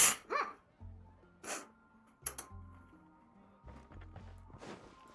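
Someone sneezes indoors in an office, several short, close bursts spaced a second or so apart, over quiet background music.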